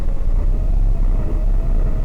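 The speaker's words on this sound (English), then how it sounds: "Oh, I can already hear the supercharger." A supercharged V8 in a Honda S2000 in Car Mechanic Simulator 2018, a loud, steady low engine rumble that holds for a couple of seconds.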